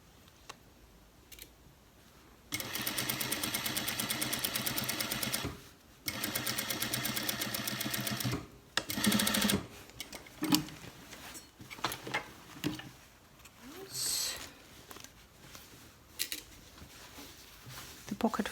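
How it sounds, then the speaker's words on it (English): A sewing machine stitches a cargo pants pocket flap in steady whirring bursts, a long run, a pause, then another run, followed by fabric handling, scissors-like clicks and small thumps close by. "Sewing along the line."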